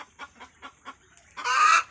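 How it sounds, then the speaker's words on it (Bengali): A hen clucking nearby in a rhythmic series of five short, soft clucks, then a louder, longer squawk-like call at the end; no talking. "আর এই যে ওখানে একটা মুরগি বসে আছে"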